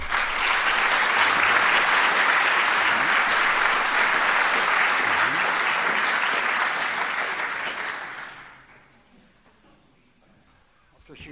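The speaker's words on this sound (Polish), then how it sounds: "Wielkie brawa." An audience at a public meeting in Olsztyn gives a long, loud burst of applause that holds steady for about eight seconds, then fades away to near silence.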